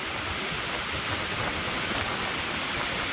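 Heavy monsoon rain and rising floodwater in Nashik make a dense, continuous rushing wash of water, loud and unbroken, with no voices.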